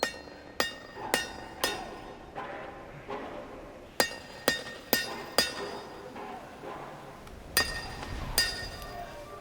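In a Jurassic World: Rebirth film scene, a hammer taps repeatedly against a hard surface, producing bright, ringing clinks in small irregular groups, fairly quiet with a short ring after each strike.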